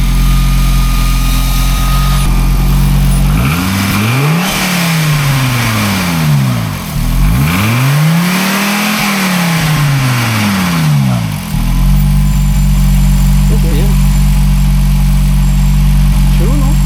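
An Audi Porsche car engine, pitched as a possible 700 HP build, revs up and down in several sweeping rises and falls over a loud steady idle, close to the microphone, with people talking around it.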